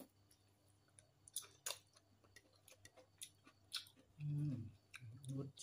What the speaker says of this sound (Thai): มากินปลาสบะซอสพริกเขียว